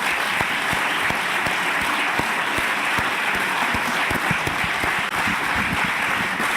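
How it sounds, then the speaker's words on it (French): Audience applause rolls on continuously, a dense wash of many hands clapping with sharper individual claps standing out near the listener. "D'abord, on peut vous applaudir."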